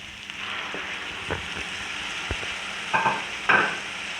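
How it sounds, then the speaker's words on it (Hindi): Goat liver (kaleji) sizzles and fries in a pan with tomato, onion, garlic and ginger, giving a steady close crackle broken by a few louder stirring scrapes and spits, with no talk. "और इस कलेजी को भून लेती हूँ।"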